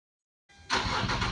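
Infiniti G37 with its stock exhaust cranking over after a moment of silence, a short starter whir that catches and settles into a loud, steady engine note up close.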